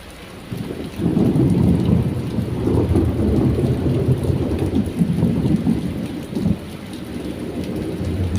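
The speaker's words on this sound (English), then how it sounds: "The rain, the thunder, the solitude." Heavy rain pours steadily through a thunderstorm while deep thunder rumbles and rolls beneath it, loud and close, with the downpour continuing alone throughout.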